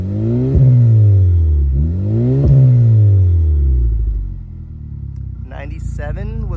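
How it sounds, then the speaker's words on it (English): A Honda Civic Type R FK8 fitted with a Ballade titanium exhaust revs twice in sharp, rising bursts that fall back to a steady idle, heard close up; a voice speaks briefly near the end. "Go ahead and give it some revs."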